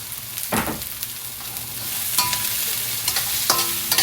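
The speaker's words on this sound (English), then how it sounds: "Fry it up." Bora long beans being stir-fried in a pan for Guyanese fried rice, a continuous loud sizzle broken by several sharp scraping strokes of a utensil against the pan.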